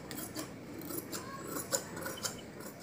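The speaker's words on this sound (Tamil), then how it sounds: "இப்போ இதே ஷேப்புக்கு இந்த கிளாத்தை நம்ம மெயின் கிளாத்தில் கட் பண்ணி எடுத்துடலாம்." Scissors snip through blouse cloth to cut a back neck shape, a few quiet, close cuts with soft rustling of fabric in a calm room.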